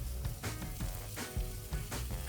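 Tri-tip sears on a Santa Maria style grill, crackling and popping with a close, steady sizzle punctuated by sharper spits.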